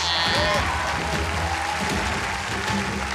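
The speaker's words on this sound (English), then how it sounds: "What are they clapping for?" A studio audience at a televised cooking competition claps steadily, a dense, fairly loud burst of applause filling the whole moment without a break.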